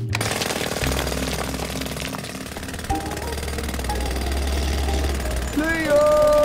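A cartoon jackhammer on a building site pounds the ground in a fast, continuous rattle throughout, loud and close. A brief voice and squeaky sounds come in near the end.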